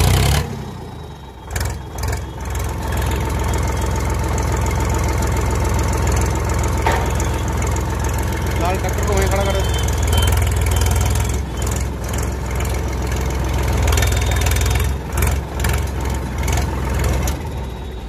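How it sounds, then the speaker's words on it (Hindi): A tractor engine runs steadily with its silencer removed, giving a loud, continuous low rumble with a rough, knocking texture throughout, close by and with no talking. "ट्रैक्टर थोड़ी सी आवाज़ डिफरेंट कर रहा है क्योंकि सिलेंसर उतार रखा"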